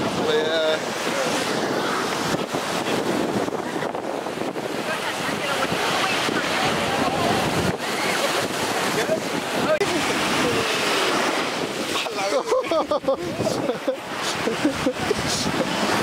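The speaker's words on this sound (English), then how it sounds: "the waves are pretty strong right now" Strong ocean waves break on a San Diego beach, a loud continuous roar of surf with gusty wind buffeting the microphone throughout, and voices occasionally audible beneath the noise.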